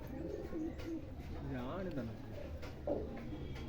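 Pigeon cooing nearby in soft, throaty repeated calls, heard under and between a person's talking.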